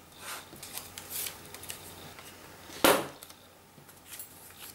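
Scissors cutting stamping mask paper during a card-stamping craft session, quiet snips and paper rustles near the microphone with one sharp louder cut partway through.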